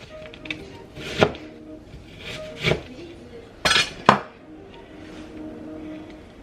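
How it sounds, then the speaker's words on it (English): A knife chops a whole onion on a board in a homestead kitchen, with about five crisp, separate strikes spread over several seconds amid quiet room sound. "So all I'm going to do is some onion here, chop up a whole onion."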